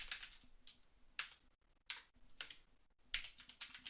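Keys on a computer keyboard clatter in quick, uneven bursts with brief pauses between, close and fairly soft, as someone types out a simple message for a Java program; no one speaks.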